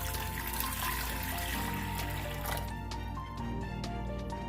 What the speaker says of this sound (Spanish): En esta olla vamos a agregar medio litro de agua